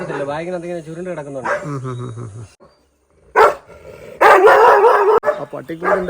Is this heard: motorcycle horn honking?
no